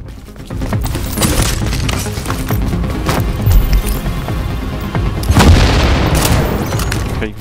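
A grenade blast in The Division on Xbox One, rendered as heavy booming explosions amid sustained gunfire, with one big thud near the middle and a second loud burst later.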